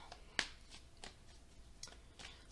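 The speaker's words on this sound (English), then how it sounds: "Do some shuffling." Playing or tarot-style cards being shuffled by hand, a few soft riffling bursts and taps spaced unevenly over a couple of seconds, quiet and close.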